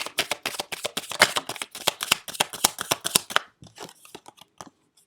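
Tarot cards are shuffled briskly in a fast, rapid riffle of crisp snapping flicks, close and distinct, slowing into a few softer, sparser taps before stopping.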